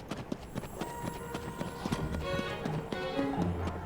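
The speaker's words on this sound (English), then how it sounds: "I think we've got a horse rider behind us" Horse hoofbeats from a rider in Zelda: Tears of the Kingdom, a rapid clip-clop pattern mixed with game music and effects, with an occasional faint whinny, moderately loud.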